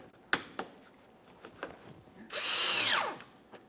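Power drill on a 2014-2018 Mazda 3 driving mounting bolts into the front inner fender liner, heard as a few sharp clicks and knocks before one loud, close whirring burst of under a second that winds down at the end.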